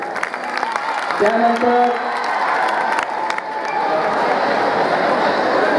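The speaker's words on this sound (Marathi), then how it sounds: "आपण सर्वांनी टाळ्या वाजवून या कार्यक्रमात सहभागी" Applause and cheering from a crowd at a public felicitation event in Jalgaon, Maharashtra, a steady wash of clapping under an announcer's voice and a brief tonal shout.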